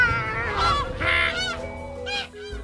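Cartoon geese honk while flying in a flock, a run of loud, nasal honks overlapping in quick succession, close and unaccompanied by talk.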